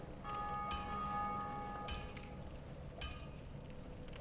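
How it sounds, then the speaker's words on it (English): A bell rings out in the Dark Souls video game, with sustained tonal strikes at the start and again near two and three seconds, ringing over a low droning backdrop. "Someone just rang the bell."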